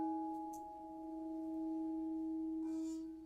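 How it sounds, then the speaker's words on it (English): A singing bowl holding water rings with a steady, sustained pure tone that hums evenly and quietly, with slight wavering distortion in its resonance. "You can hear some distortion in the bowl."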